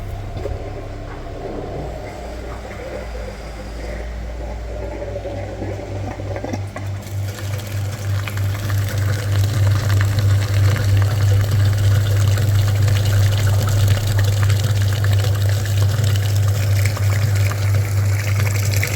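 A cooling system flushing machine pumps liquid through the dirty front radiator of a VW Golf 3, a steady loud motor hum with rushing, gurgling fluid that swells after the machine switches on.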